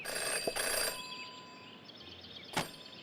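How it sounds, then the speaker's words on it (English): A telephone, a payphone, rings in the video game Jenny LeClue with bright, tonal trilling bursts at the start, then quieter game ambience and a sharp click near the end. "never to ignore a ringing phone"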